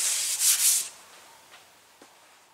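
Compressed air blowing off a fiberglass fender flare, a loud hissing burst lasting under a second followed by faint rubbing and a couple of soft taps as it is wiped down.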